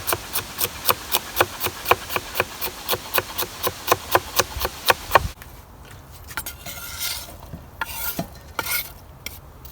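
Knife chopping a bell pepper on a board with about sixteen quick, steady, evenly spaced cuts, then stopping and giving way to softer scraping and handling noises, close and clear.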